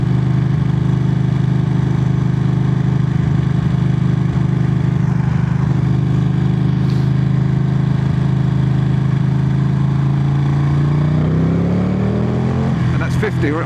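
Ducati Panigale V2 motorcycle engine droning steadily at cruising speed, a loud continuous low hum with wind rush, then rising in pitch near the end as the throttle rolls on.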